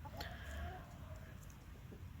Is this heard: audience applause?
no